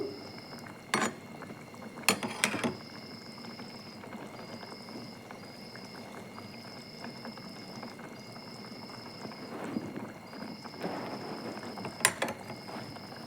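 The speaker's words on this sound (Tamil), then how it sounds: "எண்ணெய் பிரிஞ்சு முட்டை கூட சேர்ந்து கொஞ்சம் நேரம் கொதித்து வரட்டும்" Egg thokku gravy simmering in a pan with oil separating, giving a steady low bubbling texture with a few sharp clicks and taps throughout, no talking.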